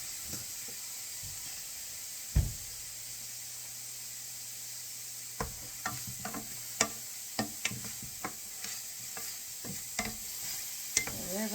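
Tomato and basil soup simmers and cooks down in a pot, a soft steady hiss with a loud clunk early on, then a series of scraping stirs and light utensil knocks, close and unvoiced.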